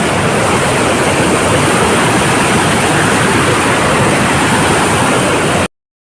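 Devkund waterfall in Similipal National Park, Odisha, roars as a dense, steady rush of falling water, loud and close, before cutting off abruptly.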